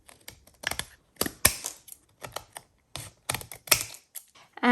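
Scissors snipping excess 200 GSM cardstock from an envelope insert, a quick run of crisp, close clicks and cuts in uneven rhythm, alone without talk.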